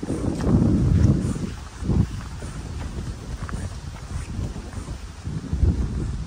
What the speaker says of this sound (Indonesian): Anginnya sepoi-sepoi, sejuk seger.